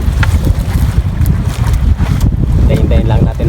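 Strong northeast monsoon wind roars and buffets steadily, with rumbling low gusts over the sound of a boat on water; faint voices mix in.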